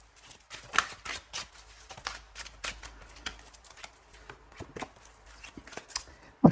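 Tarot cards are shuffled by hand in quick, papery riffles and slaps, irregular bursts close to the listener with no voice over them.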